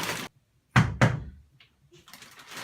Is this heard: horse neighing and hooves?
no